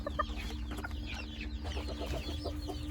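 A male and female Japanese bantam chicken cluck in short repeated bursts, fairly close, with some higher calls and a low steady hum behind them; no talk.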